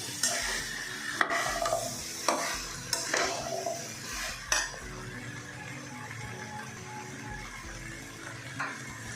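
Elephant foot yam with spices is stirred in a pan. A utensil scrapes and clinks against the metal in repeated strokes over a soft, steady sizzle.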